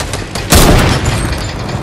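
A shot hitting an airplane in a video game gives a loud booming burst, a sudden close blast that rumbles on briefly, with no talk.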